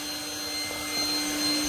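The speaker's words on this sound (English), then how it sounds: "There goes the vacuum hose." A vacuum hose runs during a bee removal, a steady whooshing drone with a faint constant whine that stays even throughout.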